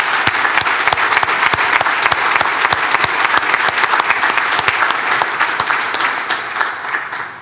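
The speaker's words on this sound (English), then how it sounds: "let's give the local media a hand of applause for having us" Steady, dense applause from a gala audience at the Bennington Banner All Stars Gala, loud and close, sustained evenly before gradually thinning near the end.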